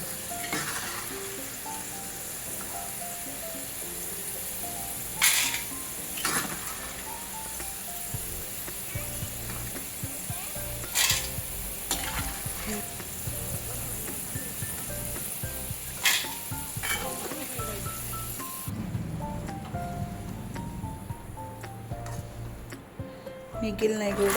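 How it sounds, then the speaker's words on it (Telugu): Batani peas fry in hot oil, giving a continuous crackling sizzle with scattered sharp pops every few seconds, close up. "ఇలా ఫ్రై చేసుకుంటుంటే అప్పుడప్పుడు పేలుతాయి, కొంచెం జాగ్రత్తగా ఫ్రై చేసుకోవాలి"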